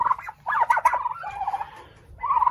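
Turkeys gobbling on a homestead, loud close rattling gobbles in quick overlapping calls that break briefly, then resume.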